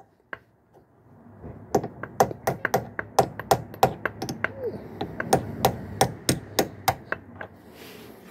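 A hammer taps a screwdriver bit into a screw in a steady series of sharp, close metallic knocks, roughly twenty light strikes at an even pace.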